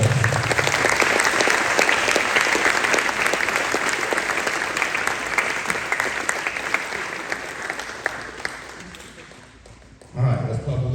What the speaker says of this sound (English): So I want to give those a big round of applause.